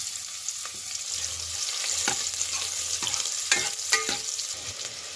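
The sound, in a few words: onion frying in hot oil in a cooker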